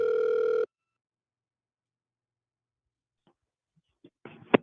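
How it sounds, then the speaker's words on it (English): A telephone line rings out as a call is placed: one steady, buzzing ring tone for about half a second, then silence before faint stirrings and the start of a voice at the very end. "So I'm going to call up our good friend Jay Gulinello on the phone"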